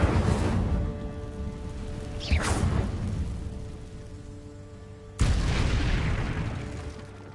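An Incendio fire spell cast in Hogwarts Legacy gives a whooshing fiery burst, then a second sharp, loud flare later, each with a roaring tail over steady low background ambience.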